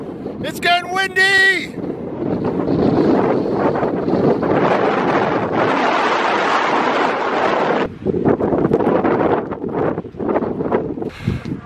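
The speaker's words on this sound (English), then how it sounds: "It's getting windy!" Strong wind roars and buffets the microphone for several seconds on a mountain hike in Guadalupe Mountains National Park, Texas, with a brief whooping voice at the start and short gaps near the end.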